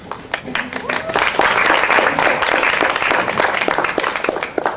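An audience at a university art panel discussion claps, scattered hand claps at first swelling into fuller sustained applause, with some voices mixed in.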